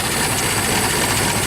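Ford Model T engine idling with the spark retarded and the throttle closed, a loud, dense, steady mechanical running noise with no voices over it.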